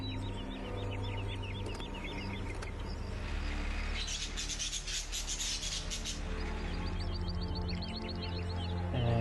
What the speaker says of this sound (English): we're going to call this a chirping static sound